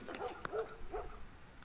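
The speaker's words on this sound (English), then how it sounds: "I'm gonna shoot that dog in the face for barking so much" A dog in The Last of Us video game gives a few quick barks and yips, short and mid-distance, in a brief burst with little else around them.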